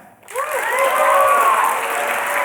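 Loud audience applause at a tech conference talk, starting abruptly after a brief pause, with whoops and cheering voices riding over dense, sustained clapping close by.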